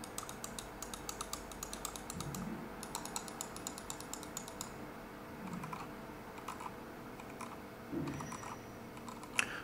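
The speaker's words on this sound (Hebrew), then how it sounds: "ה-MX Master, בואו נשמע איך נשמעים קולות לחיצה." A Logitech MX Master mouse gives a run of quick, light button clicks in an irregular rhythm, close and fairly quiet, with no one speaking.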